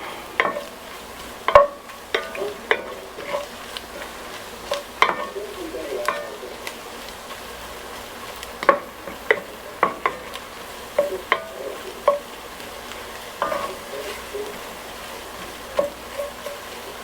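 A spoon stirring green chile chicken chowder with flour in a pot, repeated scraping clicks and knocks against the pot at an irregular pace, close and fairly loud over a faint sizzle.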